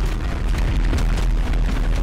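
Explosions going off in the GTA Online video game, a dense, continuous roar of booms and bursts with heavy low rumble throughout, loud and close, with no speech over it.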